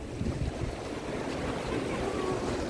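Sea waves wash onto a sandy beach in Alanya, Turkey, as a steady outdoor rush of surf mixed with wind noise on the microphone, with no voices.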